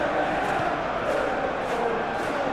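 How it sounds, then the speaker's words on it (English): Stadium crowd at a Manchester United versus Liverpool football match, a steady broad roar of cheering and noise that holds loud and constant throughout, with no clear individual voices standing out. "the crowd clearly like what they just saw"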